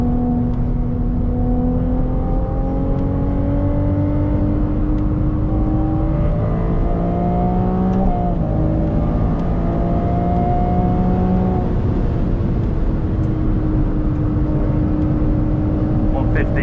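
A Ferrari 296 GTS on a race track pulls hard through the gears, its engine note climbing steadily in rising sweeps with shifts between them, loud and close over constant road and wind roar.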